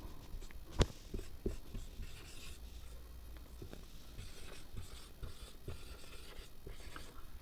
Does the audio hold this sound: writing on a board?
yes